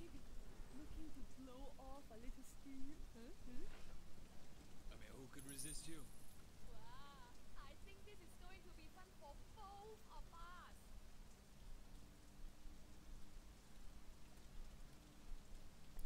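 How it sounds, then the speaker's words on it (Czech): Steady rain falls throughout a scene in the open-world game Sleeping Dogs, a constant hiss under intermittent speech and brief game sound effects. "Třeba přestane pršet za tu dobu"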